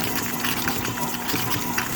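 Stand mixer with a paddle attachment beating cream cheese, sugar and vanilla for a rhubarb cream cheese cake, a steady loud whirring churn that holds constant throughout, with no talking.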